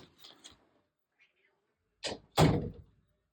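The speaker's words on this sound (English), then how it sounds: "Miss Stinky Winky Woos is banging on the door." A cat banging on a door indoors, two sharp knocks close together, loud and near, following a few faint earlier taps in a quiet room.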